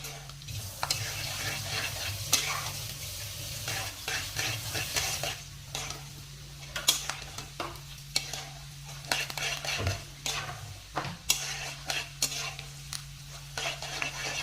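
Peanuts, chana dal and urad dal crackling as they fry in oil, a quiet run of irregular pops and sizzles with occasional stirring clinks against the pan, nobody speaking.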